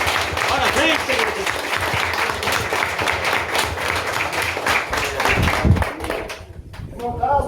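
A church congregation claps steadily and densely throughout a worship service at the Itapipoca mission, with voices talking and calling out over the applause.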